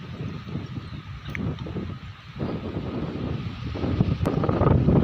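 Strong wind gusting across an open rock surface in misty hill country, a steady low roar that swells louder toward the end, with no voices.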